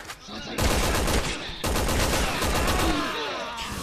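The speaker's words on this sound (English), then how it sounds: "it's the teammates are shooting" Teammates fire guns during co-op play in Resident Evil 6, a dense, loud fusillade of rapid automatic bursts that keeps going with hardly a pause.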